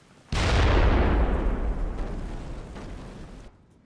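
A single loud culverin cannon blast in a Medieval Total War battle, a sudden heavy boom followed by a long rumbling decay that fades over about three seconds before cutting off.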